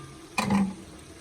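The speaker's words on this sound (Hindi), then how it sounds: "अब इस मौके पे चावलों के लिए पानी शामिल कर देंगे।" Water is poured into a pot of fried beef being readied for beef pulao, giving a single short splash and gush that swells briefly and then fades, fairly close and otherwise quiet.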